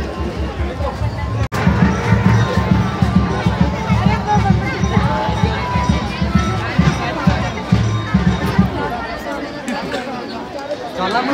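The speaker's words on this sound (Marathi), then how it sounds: "गर्दी बघा." A dense crowd at the Ekvira Aai temple shrine on a busy Sunday, a steady loud hubbub of many overlapping voices and shuffling footsteps close around, with a sharp click near the start.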